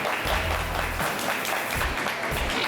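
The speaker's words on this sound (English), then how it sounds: "Let's give these young ladies a round of applause" A crowd at a county hog show applauds two young ladies, with a dense, continuous patter of clapping from nearby spectators and a few low murmurs mixed in.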